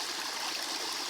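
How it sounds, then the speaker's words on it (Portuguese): A small waterfall on a stream, Cachoeira da Serrinha in Carmo do Cajuru, running low after a dry spell, gives a steady, soft hiss of trickling water with no other sounds. "lá onde a água passa, correndo muito pouca água"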